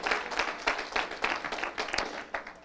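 A church congregation claps and cheers in praise, a dense burst of applause filling the room for a few seconds.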